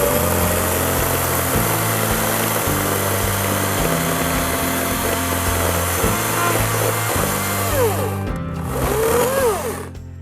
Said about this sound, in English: looked at, and tried out the Ego 14-inch electric chainsaw.